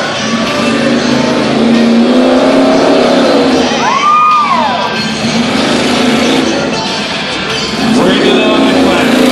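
A Toyota-bodied truck with a Chevrolet engine races at a county fair Tuff Trucks event, its loud engine roaring and revving with rising and falling pitch sweeps, set against crowd noise and an announcer's voice.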